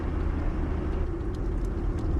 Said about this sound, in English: you're constantly subjected to that well-identified Golf 1 exhaust tone, and all other road noises